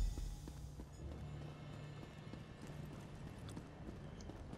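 Horse hooves clip-clop steadily in the Elder Scrolls Online video game, a continuous rhythmic trot over a low rumbling game soundscape, with no talking.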